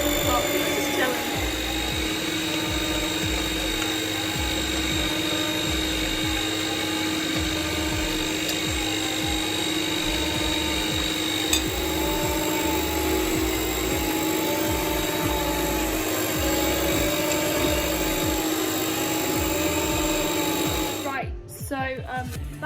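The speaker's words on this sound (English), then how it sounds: "That's been whisking for a couple of minutes now." An electric hand mixer spins on its highest setting, whisking brownie batter in a bowl, a steady loud whirring drone that holds for about twenty seconds before cutting off near the end, with some background voice.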